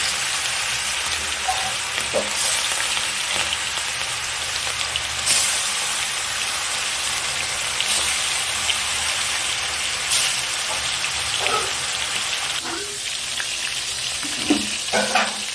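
Bhola fish frying in oil in a wok, with a continuous loud, close sizzle and crackle and a few soft clinks and stirs against the pan.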